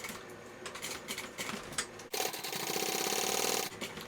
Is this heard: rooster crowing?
no